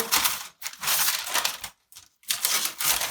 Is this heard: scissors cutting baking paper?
yes